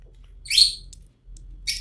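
A pet bird squawks while its beak is being trimmed: a harsh, piercing cry, a couple of short chirps, then another shrill call, all close and loud with no talking.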